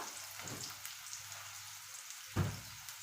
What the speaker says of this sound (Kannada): ಉಳ್ಳಾಗಡ್ಡಿ ಸ್ವಲ್ಪ ಕೆಂಪಾಗಬೇಕು. ಸ್ವಲ್ಪ ಕೆಂಪಾಗೋ ತನಕ ಅದನ್ನು ಬೇಯಿಸಬೇಕು.